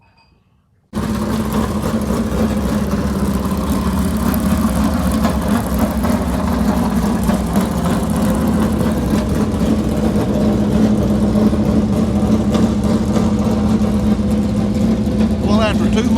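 A crate late model race car engine fires up after about a second and runs steadily, loud and close, with a rough low idle drone and some throttle flutter throughout.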